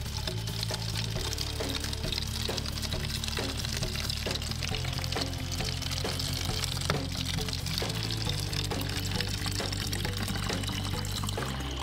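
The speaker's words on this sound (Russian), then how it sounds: "набираем воду в бутылку. До тех пор, пока она не наполнится." Water pours steadily into a 2-litre plastic bottle, a continuous loud gushing and gurgling fill running without pause over a low hum.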